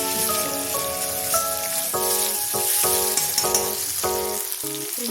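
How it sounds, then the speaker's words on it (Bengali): Paneer pieces fry lightly in hot oil for paneer chilli, giving a loud, continuous sizzle throughout while background music plays over it. "পনিরগুলো হালকা ভাজবো, বেশি ভাজবো না।"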